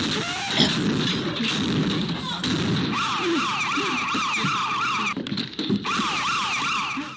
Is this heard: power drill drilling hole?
no